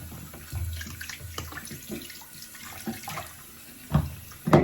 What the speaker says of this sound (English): That's washing up.